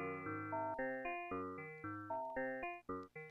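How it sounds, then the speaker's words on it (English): Percussive synth notes from an SWN Spherical Wavetable Navigator module with its envelope shape knob turned right, a quick run of plucky tones with sharp attacks and decays, about a dozen notes in a loose melodic rhythm, close and clean. "So turning to the right, you get more percussive sounds like this."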